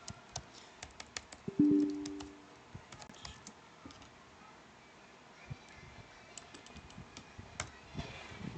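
Someone types a text editor's name into a terminal on a computer keyboard, giving sharp, irregular clicking keystrokes in scattered bursts with pauses, close and fairly quiet, alone without talk.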